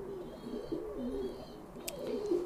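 A pigeon coos softly and close by in a few low, rolling phrases, with a faint brief click partway through and no talking.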